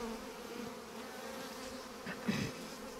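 Honeybees buzz steadily around a newly installed hive being opened and inspected, a faint, even hum that swells briefly toward the end.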